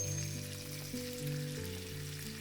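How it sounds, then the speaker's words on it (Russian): Chicken thighs sizzle and fry in bacon fat in a hot pan, a constant crackling hiss close by, with a faint hum in the background. "На эту же сковородку выкладываю куриные бедра."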